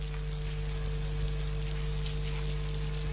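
Steady rain falling without pause, a dense continuous hiss with a low hum underneath and no voices.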